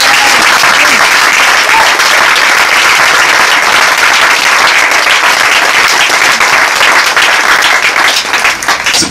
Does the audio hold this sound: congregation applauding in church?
yes